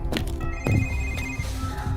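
A telephone rings at a village home in a Hindi horror story, a moderately loud repeating ring set against a tense background music bed.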